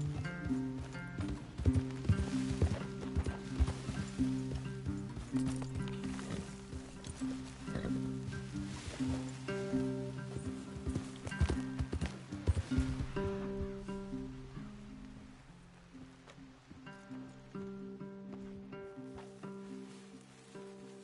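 Horses' hooves clip-clop steadily in Red Dead Redemption 2 under a dense, continuous layer of in-game music and ambience, the hoofbeats close and rhythmic for most of the stretch before fading toward the end.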